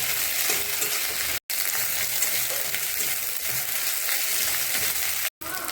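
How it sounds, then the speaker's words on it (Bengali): Onion with ginger-garlic paste fries in a pan for an egg curry, a dense, even sizzle close by that cuts out briefly twice, with no talk. "দিয়ে দেবো আদা রসুন বাটা, 1 চামচ দিলাম। এখন এগুলো ভালো করে ভেজে নেব"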